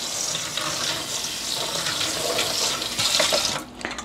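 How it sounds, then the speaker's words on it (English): Tap water runs steadily over drained black olives being rinsed in a colander at a sink, a continuous splashing rush that breaks up near the end. "I'll give it a quick rinse to this."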